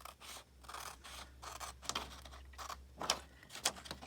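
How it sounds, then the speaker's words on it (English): Scissors snip out paper houses for a scrapbook page in quick, close, quiet cuts, a series of short crisp snips and rustles at an uneven rhythm with no talk. "So I think I'm just going to fussy cut them out,"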